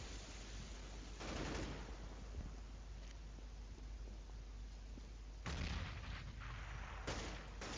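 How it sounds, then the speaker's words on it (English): Gunfire trades back and forth in a CS:GO match, with a P90 in play, as continuous rumbling game noise with louder bursts of shots around the middle and near the end, no voices over it. "A little bit of exchange of fire here"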